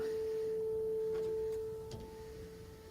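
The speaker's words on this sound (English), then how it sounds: "Yes, that is a beautiful sine wave." A pure, steady sine-wave tone from a Teensy synthesizer holds close and clear for almost two seconds, with a faint overtone, then cuts off, leaving low room hiss.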